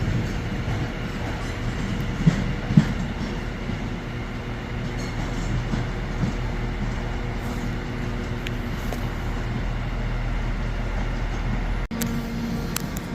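Class 730 unit 730-008 runs through Birmingham New Street, a low continuous electric-train rumble with occasional clicks from the wheels, steady and moderately distant, with a sharp knock near the end.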